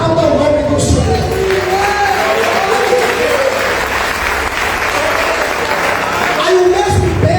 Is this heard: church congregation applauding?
yes